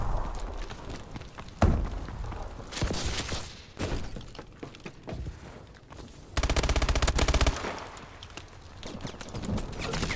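Gunfire from a Call of Duty Exo Last Man Standing match crackles in rapid bursts and sharp single cracks, mixed with clattering impacts and loud, dense volleys that swell and fade.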